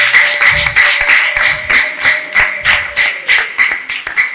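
A church congregation claps hands in praise, producing a steady, loud rhythmic beat of about two claps per second, close and crowded, with no speech over it.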